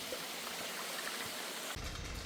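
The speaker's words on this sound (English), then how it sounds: "check this little waterfall out, it's gorgeous" A small waterfall in a glen, rushing in a steady, broad wash of falling water heard up close, unbroken for about two seconds with no talking.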